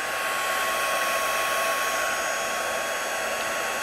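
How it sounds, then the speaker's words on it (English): A heat tool set below its highest setting blows steadily to dry a black ice technique craft piece, a loud, constant close-up whoosh that holds unchanged from start to finish with no voices. "You're going to bring in your heating tool, and you're going to do it to the first one."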